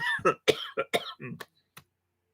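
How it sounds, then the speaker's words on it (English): A string of sharp, close coughs in quick bursts, each short and harsh, tapering off into silence at the end. "Coughing again."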